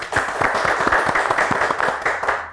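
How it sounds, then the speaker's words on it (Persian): Studio audience of a televised quiz show clapping steadily and firmly, dense continuous applause at close range with no talk over it. "یک کف بزنیم خوب محکم"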